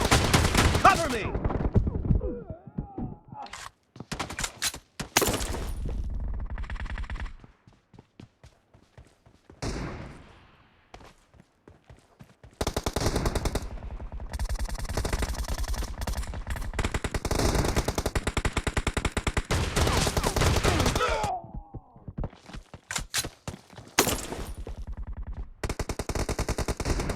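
Rapid gunfire bursts and single shots from the mobile shooter PUBG Mobile in a team deathmatch shotgun match, loud and repeated in clusters with short pauses, alongside thumps and brief voices.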